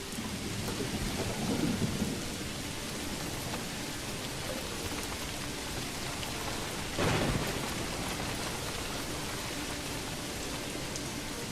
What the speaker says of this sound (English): I love how you can hear the hail, because it's a thunderstorm.